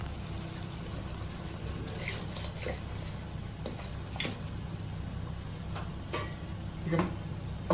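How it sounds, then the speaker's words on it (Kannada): Water pours steadily into a pot of chicken curry, a continuous splashing wash with a few clinks and stirring knocks, close by and moderately loud. "ಈಗ ನಮ್ಮ ಪಾತ್ರೆ ಸ್ವಲ್ಪ ನೀರು ಹಾಕ್ತಾನೆ."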